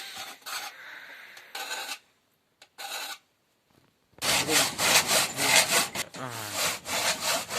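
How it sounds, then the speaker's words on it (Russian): A somewhat dull hand saw cuts through wood for a traditional Yakut knife sheath in rough back-and-forth strokes, a few short bursts with pauses, then a faster, louder run of rasping strokes. "Пила оказалась туповата."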